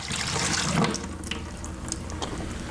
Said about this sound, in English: We've poured the bleach water out.